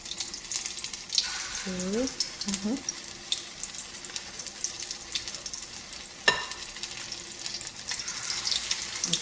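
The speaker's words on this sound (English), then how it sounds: "I'm going to drop them in now. Nice sizes. This oil is not too extreme hot." Jamaican saltfish fritters fry in hot oil with a steady, soft crackling sizzle close by, broken by a few brief clunks and a sharp knock as pieces drop into the pan.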